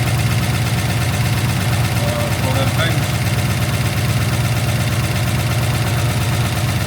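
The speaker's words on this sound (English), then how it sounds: "I'll give it a couple more revs" A Daimler Majestic Major Hemi V8 limousine engine idling with a steady, throbbing low rumble, loud and close, while someone speaks briefly over it.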